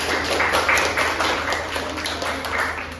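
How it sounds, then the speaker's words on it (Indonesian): Students in a classroom give a round of applause, a steady, dense patter of many hands clapping at once for a few seconds, fairly close and even in loudness. "Tepuk tangan dulu untuk semuanya"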